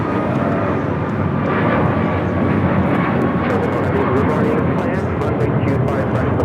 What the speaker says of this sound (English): This is Alaska Airlines 1334 taking off to Belize City on the MAX 9